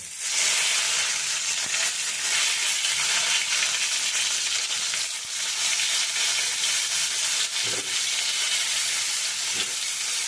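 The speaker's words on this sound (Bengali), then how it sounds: "তো এইটুকু তেলেই কিন্তু আমি বেগুনগুলো ভাজবো" Eggplant pieces frying in a small amount of hot oil over a low flame for a Bengali mustard-poppy eggplant dish, giving a loud, steady, close-up sizzle and hiss that runs unbroken throughout, with no one talking.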